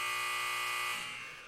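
A buzzer sounds in a sports setting, one steady, loud electronic tone held and then fading slightly at the end, alone without talk.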